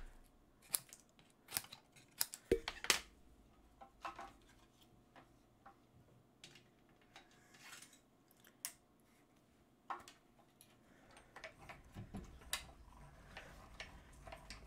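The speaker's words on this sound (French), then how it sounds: "je vais le découper dans une autre chute de papier très vanille pour ma part" Scissors snip a scrap of vanilla-coloured paper in a quiet room, with short crisp cuts in irregular clusters and soft paper rustling between them.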